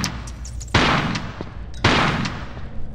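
Two loud shotgun blasts fired at bats in Tomb Raider: The Last Revelation, each a sharp boom with a decaying tail, spaced about a second apart, followed by fainter game sounds.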